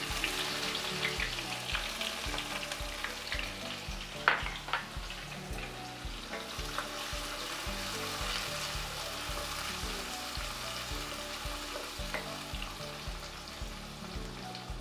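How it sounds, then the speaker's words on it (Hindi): Onions and cumin seeds fry in a cup of mustard oil over medium heat, giving a steady, close sizzle with light crackling and a few stirring scrapes. Nobody speaks. "प्याज को मीडियम आंच पे फ्राई कर लेंगे।"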